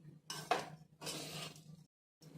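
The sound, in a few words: stirring and roasting spices in a pan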